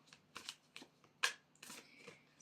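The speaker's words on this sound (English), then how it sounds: "So I'm going to give this a good shuffle." A deck of Moonology oracle cards shuffled by hand, heard as a series of crisp, close riffling and slapping bursts in uneven rhythm, with one sharper snap near the middle and no talking.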